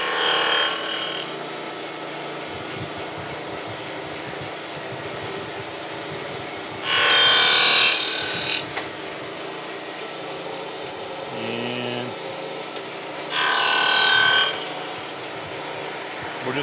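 A surface grinder works a back rail fence, a low steady machine hum broken by two loud bursts of bright abrasive grinding as the wheel passes over the metal, with a fainter touch in between.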